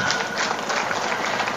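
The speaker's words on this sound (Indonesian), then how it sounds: "Tepuk tangan." Audience clapping at a Maulid religious lecture in Sribhawono, a dense, steady patter of many hands that fills the whole short stretch at an even level.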